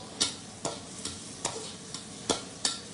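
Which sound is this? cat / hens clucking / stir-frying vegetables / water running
stir-frying vegetables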